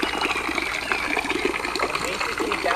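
Small Walmart fountain pump in a backyard aquaponics setup in Hawaii, pushing water through skinny pipes into the system while a big pipe drains it, giving a steady close splashing gush with people talking over it.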